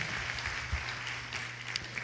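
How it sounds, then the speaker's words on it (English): Applause from a church audience at a graduation Sunday service, steady massed clapping throughout with a low hum underneath, and no talk. "let's give Victoria a round of applause"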